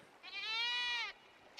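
A goat in the game ARK Aberration gives a single clear bleat of about a second, wavering and nasal, close and alone against a quiet background.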